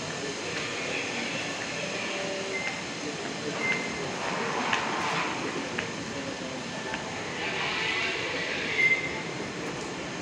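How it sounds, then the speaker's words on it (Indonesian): KA Serayu train at the Purwokerto station platform, a steady rumble and hiss of rail noise throughout with faint squeal-like tones and some background talk. "KA Serayu di jalur 1."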